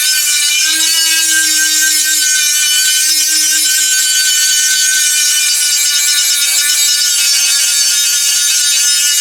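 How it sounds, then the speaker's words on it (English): A high-pitched Dremel rotary tool whines steadily and loudly, grinding a metal exhaust pipe on a 2009 Corvette ZR1 without a break. "let me get a Dremel on it"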